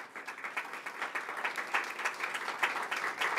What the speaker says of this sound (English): If y'all would please give these guys a big round of applause.